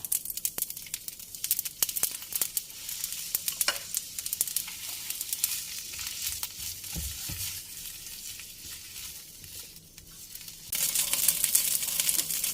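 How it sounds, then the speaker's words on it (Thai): Steady crackling sizzle of Pad Thai noodles frying in a pan with a little water, with scraping and clattering from stirring, growing louder and hissier near the end. "ก็จะใส่เส้นลงไปนะคะ ตามด้วยน้ำเปล่านิดนึงค่ะ เดี๋ยวจะผัดให้เส้นนุ่มก่อนค่ะ"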